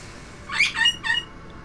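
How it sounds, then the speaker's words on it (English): A pet bird squawks in a few quick, harsh calls clustered close together, fairly loud and near, with no talking over it. "I would tell the bird to shut up"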